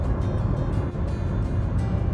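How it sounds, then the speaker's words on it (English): Loud, steady roar of heavy road traffic rushing close by, dense low rumble with wind buffeting and no voices. "this ginormous lorry that's about to try and overtake me"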